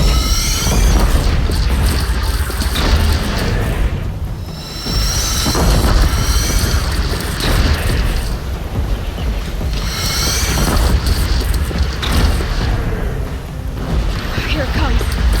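Heavy booming blasts from cannons in Horizon Zero Dawn Remastered, recurring roughly every few seconds amid a loud, dense battle wash with rumbling low end, while voices shout over the din.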